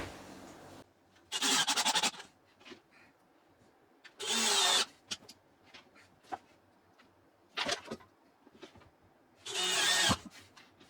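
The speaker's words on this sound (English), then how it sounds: "For now I'm just going to screw it down" A power drill drives screws into a fridge cabinet inside a box truck camper, with four loud, close whirring bursts of about a second each, separated by quiet gaps with light handling clatter and no talk.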